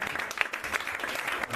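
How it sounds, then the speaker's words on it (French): Short burst of audience applause at a church seminar, dense steady clapping from a crowd for under two seconds, with no voices standing out. "Acclamez Dieu pour ça"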